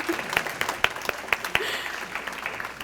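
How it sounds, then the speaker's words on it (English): Scattered, fairly light clapping from a luncheon crowd honoring volunteers at an awards event, with individual hand claps popping out irregularly over a low room murmur for a few seconds. "We'll give you a round of applause."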